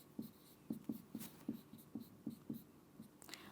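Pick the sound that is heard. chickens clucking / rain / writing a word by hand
writing a word by hand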